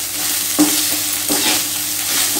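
A spatula stirs cooked rice and coconut in a hot pan, scraping in a few distinct strokes over a steady low sizzle, close up with no talking.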